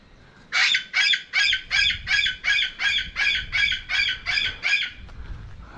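A noisy bird calls during a morning walk in Choachi, a town in the Colombian Andes, giving a loud, harsh series of about a dozen evenly spaced, rhythmic notes close by. The calls fade slightly at the end.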